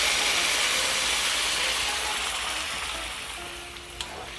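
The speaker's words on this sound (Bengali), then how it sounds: "দিয়ে দিচ্ছি গরম জল।" Hot water poured into a pan of simmering Bengali vegetarian ghugni, a broad steady sizzling rush that slowly fades over several seconds, ending with a faint thin tone and a small clink near the end.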